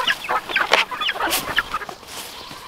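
Several backyard chickens clucking and squawking close by, a busy overlapping chatter of short calls with no talking.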